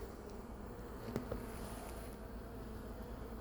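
Honeybees buzz steadily around a queen cage at an open hive, a continuous close droning hum with a few louder passes near the middle.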